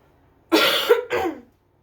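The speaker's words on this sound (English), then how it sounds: "cough up my lung because of my allergies" One person coughs hard from allergies, a close, loud cough of two harsh bursts lasting about a second, with silence before and after.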